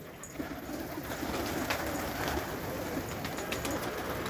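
Pigeons coo softly at an evening loft among background bird chatter, a low steady murmur of repeated coos set against faint outdoor ambience.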